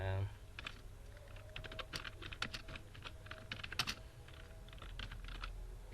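Fast, uneven clicking of keys on a computer keyboard as someone types, close and clear with short bursts and pauses, no talking.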